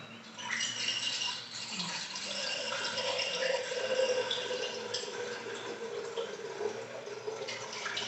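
Cold water pours through a funnel into a bottle, a steady close gurgling and trickling stream that rises slightly as the bottle fills, continuing throughout with no talking.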